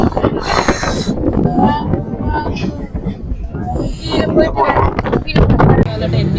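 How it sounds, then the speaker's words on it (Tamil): Strong wind on a Sri Lankan mountain buffets the microphone in rough, uneven gusts, with people talking underneath. "காற்று செம்மையாக இருக்குது"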